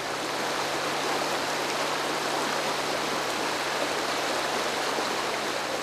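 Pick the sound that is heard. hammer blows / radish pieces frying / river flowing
river flowing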